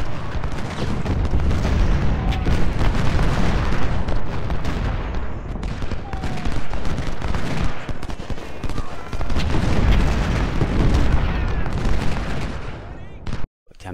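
Dense, continuous booming of cannon and artillery fire in the game Ultimate General: Civil War, Fredericksburg battle, loud rolling volleys with crackling shots and a voice talking over it.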